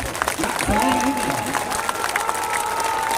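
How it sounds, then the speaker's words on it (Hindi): A crowd at a village political gathering claps together, a loud continuous patter of hands mixed with cheering and shouting voices close by. "अब बजा लो ताली"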